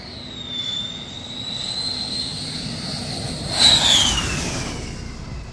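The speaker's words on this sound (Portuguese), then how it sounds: "um jato passando, ele vai soltar um assobio" A jet aircraft passes with a high whistling engine tone that slides downward, a steady roar building to a peak near the end as it goes by, fairly close with no talk.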